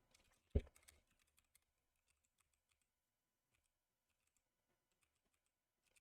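Typing on a computer keyboard, faint and sparse, with one sharper key tap near the start and a few scattered soft clicks in a mostly quiet room.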